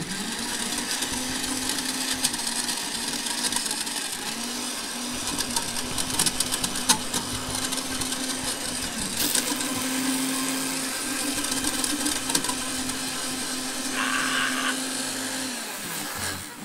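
A blender grinds a rubber duck, a loud steady motor whine with rattling and clattering that runs continuously, then cuts out near the end.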